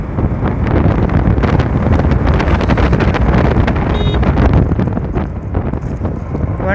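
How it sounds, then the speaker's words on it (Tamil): Strong wind roars steadily across the microphone while riding a motorbike on the way to market, a dense, continuous buffeting rush that fills the whole clip with no break. "சும்மா காற்று பிச்சுக்குன்னு அடிக்குது போங்க"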